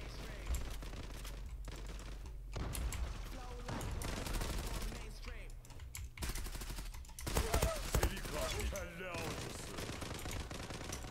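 Game gunfire from an M468 Vendetta-B in the shooter Zula: dense bursts of loud automatic fire in short clusters, with voices talking over the shooting throughout.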